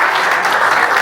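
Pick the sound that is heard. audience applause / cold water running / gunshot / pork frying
audience applause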